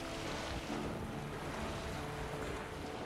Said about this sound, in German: Geh aus dem Wind, das Segel flattert.